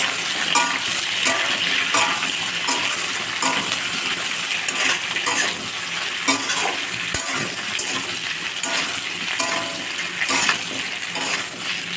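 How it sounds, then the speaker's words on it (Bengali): Potatoes and pointed gourds fry in hot oil with a continuous crackling sizzle, broken by frequent sharp clicks and scrapes of a spatula against the pan, close and fairly loud. "আলু পটলটা খুব ভালো করে ভাজা ভাজা করবো"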